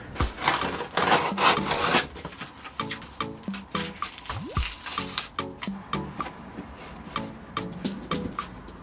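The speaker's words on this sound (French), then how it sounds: "je vais essayer de découper des bouts de carton de la même taille" Pieces of cardboard are cut by hand, with a series of short, close scraping and slicing strokes in an uneven rhythm, some quick rustles early on and quieter repeated cuts after.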